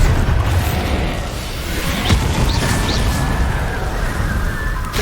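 Spell explosions from Hogwarts Legacy on PS5, the Confringo and Bombarda blasts rumbling as a dense, continuous wash of booms and crackling debris under steady combat noise, fairly loud throughout.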